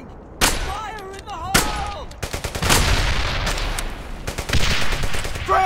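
Rapid World War II gunfire in the shooter game Brothers in Arms: Hell's Highway, loud bursts of automatic fire and sharp single shots, close and dense, with shouted soldier voices in between.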